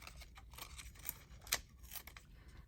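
Several quick scissor snips through paper ephemera, fussy-cutting around an owl image, close and crisp, with short pauses between the cuts and a faint background hiss.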